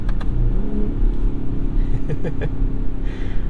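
A 2021 Ford F-150 Raptor pickup's engine rumbles loudly and revs up and down nearby, with a deep throaty exhaust tone and a few faint pops and burbles on the down rev.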